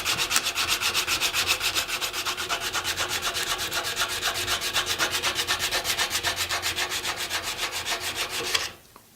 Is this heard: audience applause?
no